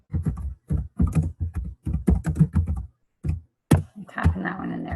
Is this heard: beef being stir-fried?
no